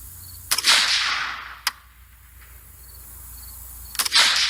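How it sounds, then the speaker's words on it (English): Sharp gunshots from a 3D printed AR15 rifle with an aluminum magazine, fired outdoors toward a target at 100 yards: one crack, a second lighter shot, then a third after a pause, all heard from a distance. "Seems to be shooting. Bolt held open, firing an aluminum mag."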